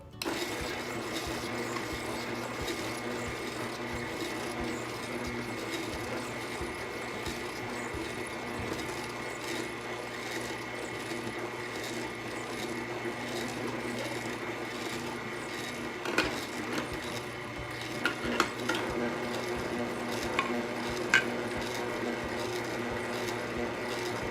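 A juicer running while pineapple is fed through it, producing a steady mechanical whirring drone with a rhythmic chattering hum, close and continuous, with a few knocks and clunks toward the end.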